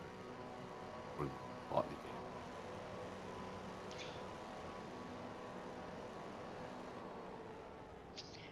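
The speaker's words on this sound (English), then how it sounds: "Can hear some engines." Race car engines in a V8 sim racing game at Sandown drone steadily and faintly in the background, with a brief word spoken over the continuous hum.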